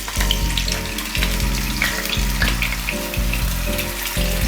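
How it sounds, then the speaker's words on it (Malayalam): Pearl spot fish is set into hot oil to shallow fry, giving a loud, steady sizzle with bright crackles over a repeating low tonal pattern, and no one speaks. "ഇനി നമുക്ക് ഇതിലേക്ക് ഫിഷ് വെച്ച് കൊടുക്കാം."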